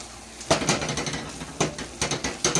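A spoon clinks and scrapes against a pan while onions and garlic are stirred for onion soup. The taps are sharp, close and irregular, coming in several quick bursts with a faint sizzle between them.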